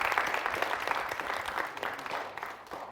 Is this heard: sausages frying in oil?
no